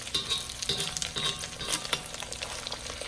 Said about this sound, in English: So this is probably the longest bit of cooking, getting this egg ready.